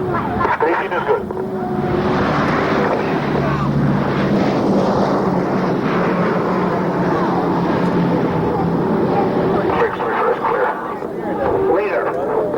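Aircraft landing and taxiing at the 1993 Quonset Point air show, a continuous loud engine roar with a commentator talking over it throughout.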